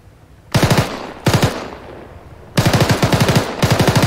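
Bursts of automatic gunfire in the game Arma 3: short rapid volleys of about four to six shots each, loud and close, separated by brief pauses with fading echo tails.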